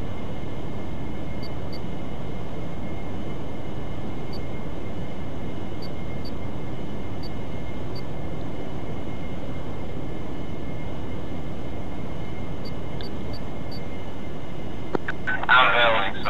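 Jet aircraft landing in a flight combat video game, a steady droning engine roar with faint radio beeps, held at an even level throughout, ending with a short burst of noise, under radio chatter.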